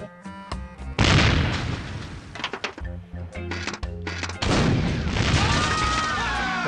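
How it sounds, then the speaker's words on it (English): A cannon fires in the pirate adventure game Monkey Island 3, with two loud booming blasts, the second rolling on for seconds over the game's music. "And then we're gonna fire the cannon."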